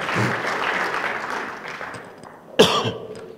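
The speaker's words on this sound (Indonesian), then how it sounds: "ya boleh tepuk tangan" An audience breaks into applause, a dense wash of clapping that fades out, followed by a sharp cough near the end.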